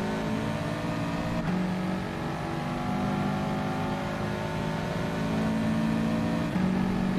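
Subaru WRX race car in GT Sport lapping the Brands Hatch Grand Prix Circuit, its engine droning steadily with tonal harmonics that shift up and down through gear changes, continuous and loud throughout with no talking.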